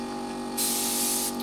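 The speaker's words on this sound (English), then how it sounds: "Using a fairly cheap Chinese spray gun from TikTok, which they sent me." A cheap Chinese spray gun sprays paint onto a tractor door, a sudden loud hiss that starts midway, holds for under a second and cuts off over a low steady hum.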